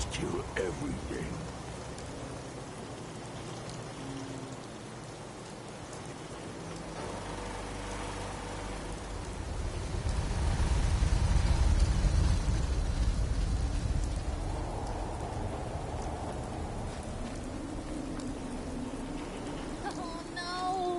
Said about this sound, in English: This rain is gonna ruin my notes!